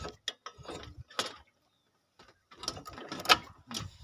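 Kisankraft KK-IC-406D power weeder, its rotor gear being engaged by hand, a close series of irregular mechanical clicks, ratcheting and clanks with short quiet gaps, no talking.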